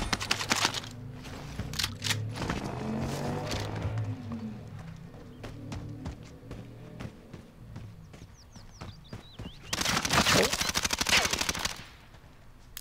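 Enemy gunfire in Call of Duty: Warzone, rapid bursts of automatic fire crackling in irregular volleys at mid distance, with scattered impacts and a louder flurry near the end, no talk.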